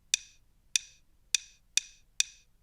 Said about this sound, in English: Even just having the metronome here is so useful to practice your timing to.